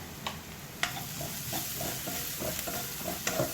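Ginger garlic paste frying in a pan with browned onions for paneer tikka masala gravy, a soft steady sizzle broken by a few sharp scrapes and stirring taps of a spoon against the pan, close and moderately quiet.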